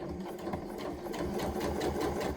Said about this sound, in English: So let me just stitch this seam for you.